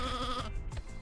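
A sheep bleating in the PS1 game Sheep Dog 'n' Wolf, a single short wavering bleat that is close and clear, with no talk over it.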